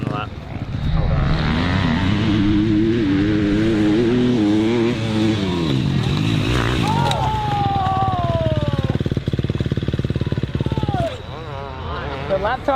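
A 2023 KTM dirt bike rides a lap, its engine loud and continuous with rising and falling revs, and people talk over it partway through.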